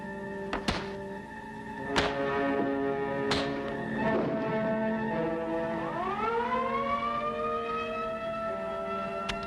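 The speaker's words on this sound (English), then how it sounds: "I heard the siren" Several heavy thunks sound over a steady droning tone, then a siren winds up and rises in pitch, loud and sustained.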